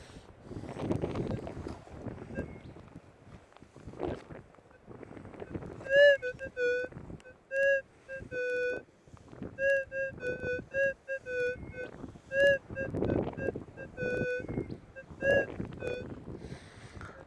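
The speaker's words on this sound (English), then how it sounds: "It's really windy today, so it's going to be difficult to hear." Wind gusts buffet the microphone with low rumbling bursts while gold prospecting outdoors in Western Australia, then a series of clear electronic beeps repeats over the lighter wind noise.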